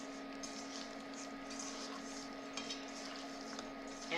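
Chicken is stirred by hand with oil and Cajun seasoning in a bowl, making soft wet scraping and light utensil clinks against the bowl, close and fairly quiet.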